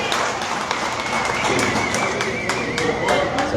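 Audience applause at a USA vs Mexico boxing event inside a hangar at the Cochise County Fairgrounds in Douglas, Arizona: a steady wash of crowd clapping with scattered sharper claps, mixed with crowd chatter throughout.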